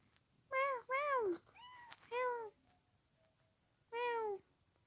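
Cat meowing in the Toca Life game: five clear, close meows in quick succession with upward and falling pitch sweeps, spaced by short pauses, over a quiet background.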